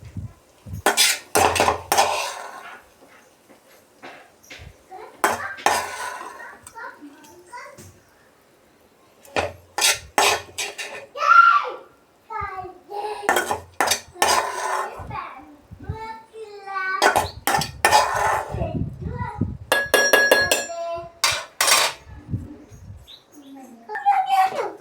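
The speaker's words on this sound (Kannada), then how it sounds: "ಇದನ್ನು ಚೆನ್ನಾಗಿ ಮಿಕ್ಸ್ ಮಾಡಿಕೊಂಡು" Batter is mixed by hand in a bowl, with bursts of clinking and scraping utensil strokes, voices talking at times, and faint bird chirps in the background.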